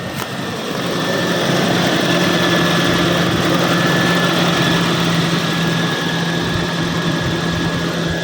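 Toyota Kijang EFI engine, fuel pump relay fault, catches after cranking and settles into a steady, loud, close idle with a constant low rumble and hum throughout.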